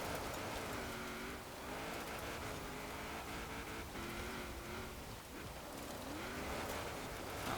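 A 1993 Toyota T100 Baja off-road truck in Forza Horizon 4 drives steadily, its engine a continuous mid-level drone with shifting harmonic tones and a broad noisy wash of road and wind, loud throughout without talk.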